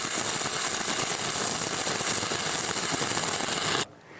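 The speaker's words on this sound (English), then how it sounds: "Try to maintain a short arc gap and constant travel speed." Stick electrode arc welding with a short arc gives a steady, close crackling and hissing sizzle that runs evenly for almost four seconds, then stops abruptly.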